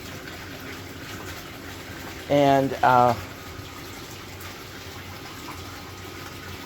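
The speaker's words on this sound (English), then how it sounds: "So right now I'm draining the water" Steady broadband rush of water draining from a tank, continuous throughout, with a brief spoken word partway through.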